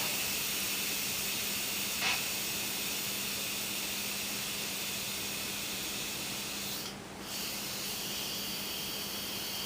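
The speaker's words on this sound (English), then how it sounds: "while the steam is being let out" Steam vents in a steady, loud hiss from a pressure cooker released before the lid comes off after cooking chicken, a continuous rushing spray holding for the whole stretch with a brief dip near the end.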